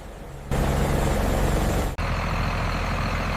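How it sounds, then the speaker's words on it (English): Heavy trucks loaded with tomatoes arriving at a tomato processing plant, a loud, continuous diesel engine rumble with a brief dip midway before the steady roar resumes. "Trucks filled with bright red tomatoes arrive and are weighed before unloading."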